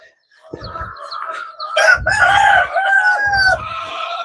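Chickens on a farm, with roosters crowing repeatedly and hens clucking close by, several loud overlapping calls filling the whole stretch.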